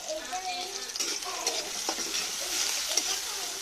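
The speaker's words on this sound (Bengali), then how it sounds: "কড়াইতে তেলের মধ্যে লাল লাল করে নিতেছি" Onions frying in oil in a wok (kadai), a bright crackling sizzle broken by repeated scraping stirs of a spatula, close and steady throughout.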